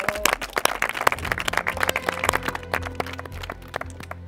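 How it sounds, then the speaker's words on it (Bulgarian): Scattered clapping from a TV studio audience for a couple on the Bulgarian reality show Maximal Revenge 2022: sharp, uneven claps ringing over a low musical bed, loudest early and thinning toward the end. "Аплодисменти за тях."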